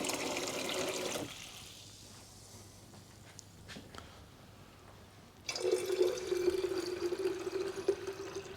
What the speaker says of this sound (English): I'm just putting in 2 litres of fresh antifreeze and going to top up with water, just normal tap water